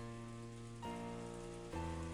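Steady rain in the visual novel Umineko When They Cry, a constant soft hiss under sustained musical tones that shift pitch twice, fairly quiet throughout.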